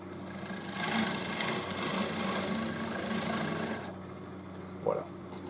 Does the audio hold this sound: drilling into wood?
yes